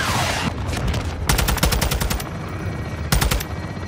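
Rapid machine-gun bursts in Call of Duty Modern Warfare 2, loud and close, with two sustained strings of shots over a constant rumble of battle noise.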